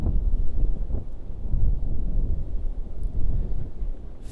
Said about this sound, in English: that wind is really picking up here, shaking the tripod